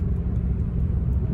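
A 2005 Ford Mustang GT with a Pypes Violator exhaust idles with a steady, deep low rumble, a continuous throaty drone close by with no talk over it.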